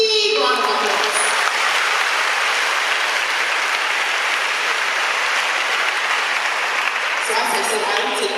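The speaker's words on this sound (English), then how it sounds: "let's just honor them by giving them a big round of applause" Steady, dense audience applause fills a hall at a community talk on menstrual hygiene and sexual abuse, sustained at an even level from start to finish with no pauses.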